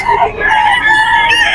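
Roosters and hens at a Bocaue, Bulacan poultry sale, including an 18-month-old bull stag, cluck and crow in a sustained, close chorus with a brief voice underneath.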